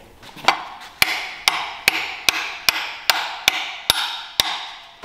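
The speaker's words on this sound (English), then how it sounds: "Install the crank sprocket with a copper hammer you want to tap it on so it just gets started on that second Woodruff key" A copper hammer taps a crank sprocket onto a YD25 engine crankshaft over a Woodruff key, with about ten sharp, evenly spaced metallic strikes, close and loud, with no talking.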